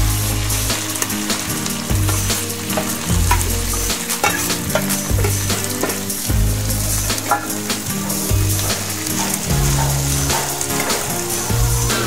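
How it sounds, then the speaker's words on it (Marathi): Dried Bombay duck chutney fries in hot oil on a flat pan over low heat, giving a continuous close sizzle with faint stirring scrapes while rhythmic music plays underneath. "तेल गरम झालेलं आहे। आता आपण हे बोंबीची चटणी त्यात टाकूया।"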